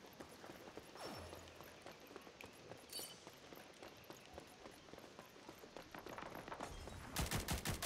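Gunfire in the shooter game Rogue Company, with a steady stream of close, sharp shots running throughout and a louder, faster burst near the end.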